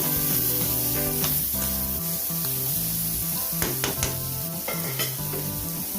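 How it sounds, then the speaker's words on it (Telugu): Tomatoes added to coconut pieces and green chillies frying in a pan for coconut tomato chutney, with continuous close sizzling, rhythmic spatula scrapes and a few sharp clinks against the pan, no voices. "కొబ్బరి ముక్కలు, పచ్చిమిర్చి వేగిపోయిన తర్వాత టమాటో యాడ్ చేస్తున్నాను చూడండి"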